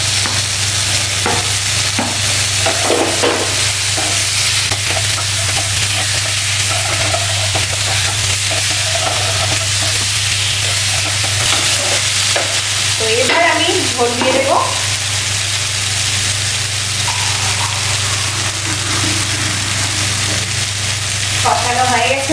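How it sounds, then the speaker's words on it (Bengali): Cauliflower florets tossed into a pan of frying chicken curry base, a steady loud sizzle running throughout with intermittent scraping and stirring clatter of a spoon against the pan, close up and without talk. "এবার ফুলকপিগুলো দিয়ে দিচ্ছি।"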